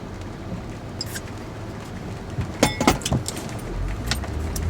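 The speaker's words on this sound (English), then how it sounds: "I'm about to listen to my book and concentrate on driving in this rain." Rain heard from inside a moving car during a drive, a steady wash of noise with a low road rumble beneath and a short cluster of sharper clicks and jangles partway through.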